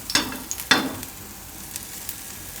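Moong dal cheela frying in oil on a pan, with two brief sizzling bursts early on that fade into a faint steady crackle, close and quiet, with no talking.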